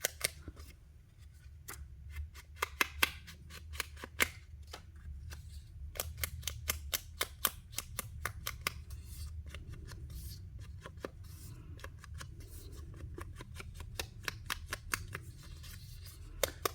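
Scissors snip and scrape along paper edges to distress them for a scrapbook page, giving a long run of quiet, irregular crisp clicks and rasps, some in quick bursts, with no talking.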